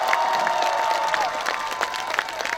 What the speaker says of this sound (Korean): 여러분들 괜찮으시다면 박수 한번 크게 한번 줘보실까요?